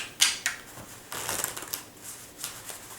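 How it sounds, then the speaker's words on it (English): Playing cards being falsely shuffled by a magician: a few short, crisp riffling bursts and soft handling clicks, close up and fairly quiet, with no talking. "by adding a false shuffle"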